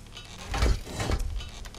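A door in Divinity: Original Sin 2 unlocks and swings open: a short wooden clunk of a turning mechanism, then a second rubbing creak, close and fairly soft, with no talking.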